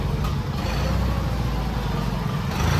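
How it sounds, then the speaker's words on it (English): An Onan engine runs steadily up close with a loud, continuous rumbling drone that does not change. "Sounds like my Onen's about to run out of gas."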